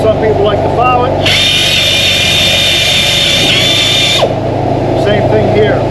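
A sharpener grinds a freshly rehammered sawmill blade with a loud, bright, sustained whine lasting about three seconds, set against a continuous low engine drone, while someone talks around it.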